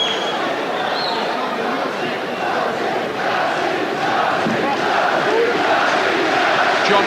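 A boxing arena crowd roars and cheers steadily for a returning fighter, a dense, loud wall of voices that holds throughout, with a commentator talking over it.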